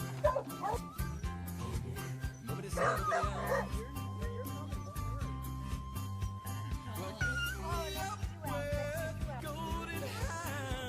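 Beagles bark, yip and whimper, heard through what sounds like a video playing, with the dog sounds mixed over steady background music and some talking.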